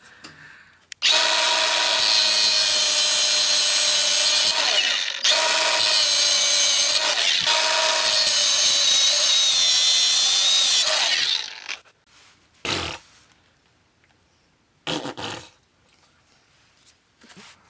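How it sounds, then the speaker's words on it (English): Cutoff wheel slicing through rusted body metal on a neglected, low-mileage Honda CR-V: a loud, continuous high-pitched grinding screech runs about ten seconds with a brief dip, then stops, leaving scattered short scrapes and clanks. "I didn't want to use the cutoff wheel here, but seems like we have no choice."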